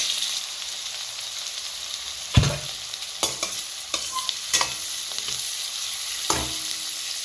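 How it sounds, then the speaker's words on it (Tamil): Chopped big onions sautéing in a pan for crab gravy, a continuous hissing sizzle with scattered stirring scrapes and knocks close by. "பெரிய வெங்காயம் எடுத்து அரிஞ்சு இது பண்ணியிருக்கோம். போட்டு நல்லா வதக்குங்க."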